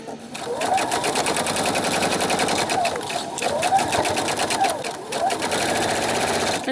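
Sewing machine stitching fabric for a pillow: a loud, rapid mechanical clatter of needle strokes running continuously, with the motor pitch rising and dipping slightly as it stitches.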